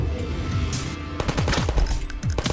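AK rifle fire in a wave-based first-person shooter Flash game, with rapid bursts of loud, close shots that grow denser and more continuous in the second half.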